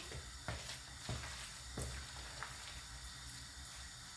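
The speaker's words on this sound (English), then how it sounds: "I'm just going to stir it once more" A spoon stirs a thick Christmas pudding mixture in a bowl, making faint, soft scrapes and dull knocks at irregular intervals against a quiet background.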